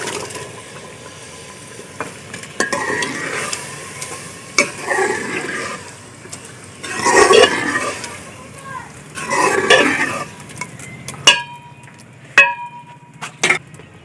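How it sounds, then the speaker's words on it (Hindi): Boiled lentils go into a pot of spice masala and get stirred, giving wet sloshing and scraping swirls with a few sharp utensil knocks against the pot, close and fairly loud in a home kitchen. "इसमें अब हम दाल डालते हैं।"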